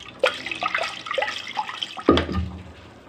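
Water is poured from a cup into a cooking pot of thick, freshly tempered dal, a short splashy gush near the end following some lighter clinks and drips.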